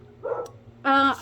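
A dog close by gives two sharp barks, a softer yip and then a louder, longer bark, indoors.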